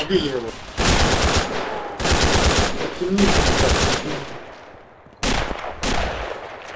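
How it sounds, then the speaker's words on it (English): Machine gun fire in the video game Red Orchestra comes in several loud, rapid bursts separated by short pauses, with a distant voice briefly heard between bursts. "Right, some covering fire here. they're shooting back."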